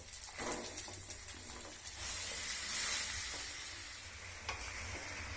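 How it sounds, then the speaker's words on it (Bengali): Finely chopped medium bottle gourd frying slowly in a pan, a faint steady sizzle with soft stirring scrapes and faint birdsong in the distance. "বন্ধুরা এইটা আস্তে আস্তে আমাকে ভাজতে হবে।"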